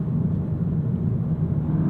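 Engine of a 2024 Volkswagen GTI 380 S hot hatch running in sport mode, a steady, loud, low droning rumble that holds evenly throughout with no voices.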